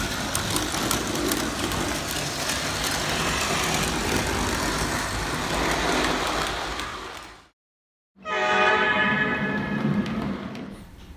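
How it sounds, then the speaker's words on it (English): Lionel O scale CN model train engine running on a layout, a steady mechanical rumble and whir that cuts out briefly, then resumes with a bright, sustained tonal horn blast layered over the motor. "some shots of my big CN engine running with the new box car that I got recently behind it"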